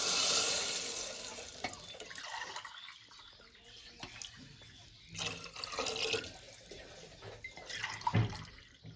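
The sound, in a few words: water poured over samai millet rice in a pot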